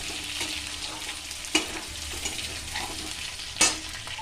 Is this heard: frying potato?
yes